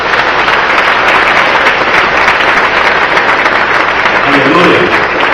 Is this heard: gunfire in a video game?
no